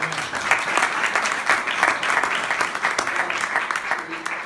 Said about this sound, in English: How about a nice little round of applause?